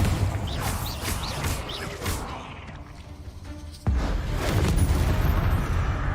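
A Bombarda explosion spell cast in Hogwarts Legacy inside a tomb lands as a sudden loud boom partway through, followed by a rumbling, crackling aftermath over a busy background.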